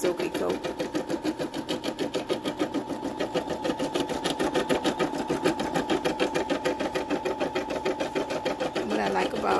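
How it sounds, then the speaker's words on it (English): An embroidery machine stitches an Eye of Horus design in black thread, producing a fast, steady mechanical chatter of rapid needle strokes that stays close and constant throughout. "What I like about this machine is you can look at your project on the screen"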